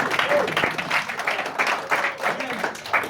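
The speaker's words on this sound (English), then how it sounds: "Can we give him another round of applause?" Applause from the audience at an event-promotion training session, a dense wash of clapping that swells and pulses steadily for about three seconds, fairly close and loud, with scattered voices mixed in.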